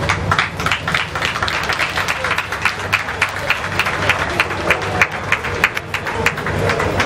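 A crowd at a courtroom trial in the DRC cheers and claps, a loud, continuous mass of voices and rapid irregular clapping, with shouts rising and falling throughout.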